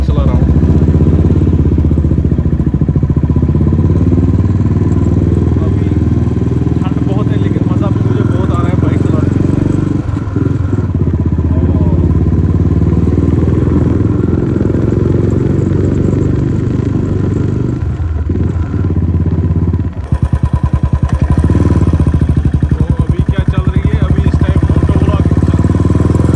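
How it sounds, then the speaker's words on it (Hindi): A motorcycle being ridden gives a steady engine drone and rushing wind noise that fill the whole stretch, with someone talking loudly over it throughout. "आज मैं बहुत टाइम बाद बाइक चला रहा हूँ"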